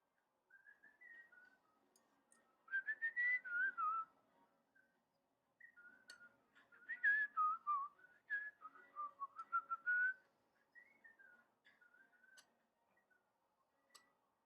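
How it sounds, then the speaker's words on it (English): A person whistles a wandering melody in bursts, louder phrases rising and falling between quieter stretches, close to the listener with occasional soft clicks and no talk. "I'm sitting here just whistling along."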